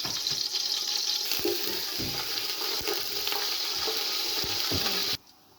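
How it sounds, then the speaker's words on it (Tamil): Bay leaf and cardamom pods fry in hot oil for chicken biryani, a loud, steady crackling sizzle with a few stirring knocks that cuts off abruptly near the end. "இப்போ இது பொரிஞ்சிட்டுது"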